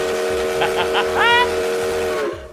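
A steam train whistle alert effect for a stream hype train sounds several short toots and then a longer rising blast over a held whistle tone, loud and close before cutting off.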